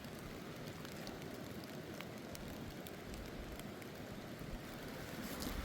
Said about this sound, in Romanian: Când mă apropii de sol, aud cum picură.